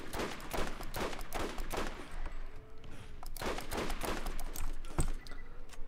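Sustained gunfire at Skagzilla in Borderlands, dense rapid rattling bursts with sharp repeated cracks, fairly close and continuous, easing briefly in the middle before picking back up.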